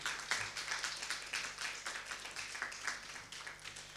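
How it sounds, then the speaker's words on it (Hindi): Steady audience applause welcoming a guest onto the stage at an Indian women's poetry event, dense overlapping claps sustained at moderate loudness throughout with no voices. "बहुत बहुत तालियों से उनका स्वागत किया जाए"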